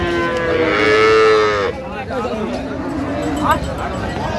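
A dairy cow gives a long, loud moo up close at Raniganj cattle market in Dinajpur, followed by the murmur of people talking and more lowing amid crowd noise.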